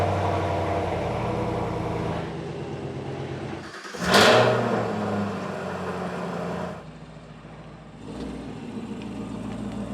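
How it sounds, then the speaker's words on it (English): A 650-horsepower Chevrolet Silverado Trail Boss engine turns over and barks to life in a loud cold-start surge, then settles into a high, rumbling fast idle that drops back to a lower steady idle. "go wake up all my neighbors with 2 cold starts of that 650 horsepower beast"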